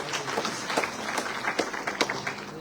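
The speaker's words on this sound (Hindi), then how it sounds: "तालियों से स्वागत करो डॉक्टर साहब का।" Crowd at an outdoor political rally gives a doctor a welcoming round of applause, a moderate, steady patter of many hands clapping, fairly close with no talking.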